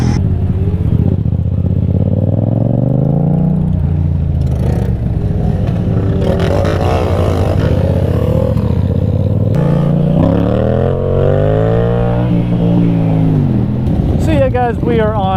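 A Yamaha FZ motorcycle hums steadily during a group ride, its engine rising and falling as the rider shifts, with wind noise throughout and someone talking over it.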